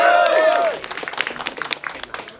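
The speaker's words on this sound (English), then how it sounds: "I think we should raise a round of applause for them" Wedding guests at a royal Indian celebration in an Udaipur palace break into applause; scattered clapping rises after a brief burst of other sound fades, moderately loud and close, with a faint murmur of crowd behind it.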